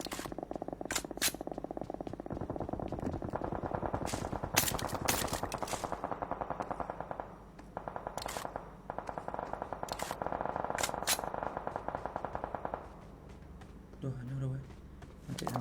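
Gunfire in a shooter video game: rapid automatic bursts of shots in several separate volleys, some sharp and close, others quieter, with a voice speaking near the end.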